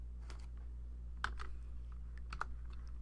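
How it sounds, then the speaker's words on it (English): A computer keyboard is typed on in short clusters of light, close keystrokes over a steady low electrical hum, and no one speaks. "let me just type this one in"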